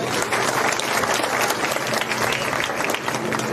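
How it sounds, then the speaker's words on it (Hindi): Large crowd applauding steadily at an outdoor Haryana election rally, a dense continuous clatter of many hands at full volume throughout. "तो एक बार जोरदार तालियां हमारी माताएं बहनें के लिए।"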